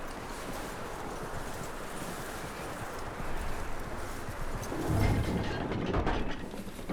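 Horse hooves clip-clop in the snowy Red Dead Redemption 2 game world, soft, steady hoofbeats under a constant wind-like hiss that swells slightly toward the end.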